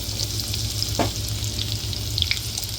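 Green chilies and cumin seeds sizzle steadily in hot oil for a mixed vegetable dish, a continuous close crackle with a brief clink of a utensil near the middle.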